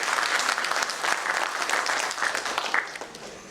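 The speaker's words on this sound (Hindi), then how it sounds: "डॉक्टर शांताराम गायकवाड़ सर के लिए जोर से एक बार ताली हो।" An audience bursts into steady, dense applause for Dr. Shantaram Gaikwad after his talk on dairy animal health, the clapping sustained and fairly loud throughout without any speech over it.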